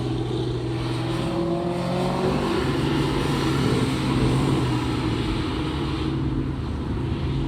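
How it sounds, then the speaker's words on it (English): A car engine with a loose, old belt runs loudly and steadily at a drag strip, its pitch rising then settling as it revs, with a droning, rough mechanical tone. "Rev the car!"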